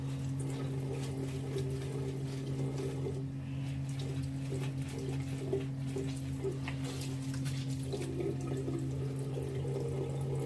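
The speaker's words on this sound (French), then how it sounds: "Donc je rince le masque et je reviens." Water runs steadily from a tap while a face mask is rinsed beneath it, a continuous close splashing flow over a constant low hum, with no talking.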